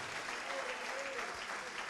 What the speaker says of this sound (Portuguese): Vamos aplaudir ao nosso Senhor Jesus Cristo.